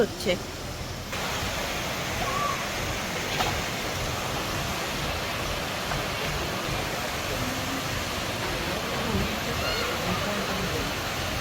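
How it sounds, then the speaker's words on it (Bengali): Water pours down at the Sahastradhara falls near Dehradun, a steady broadband rush that holds without break from start to finish, fairly close and continuous with no talk. "যেখানে জলটা অনেকটা নিচে নেমে যাচ্ছে ওপর থেকে"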